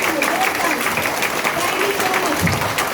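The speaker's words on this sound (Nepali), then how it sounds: "हात ताली बजाउनुस् जोरदार, जोरदार, जोरदार।" A training-session audience claps loudly and continuously on request, a dense steady wash of applause with a voice audible over it.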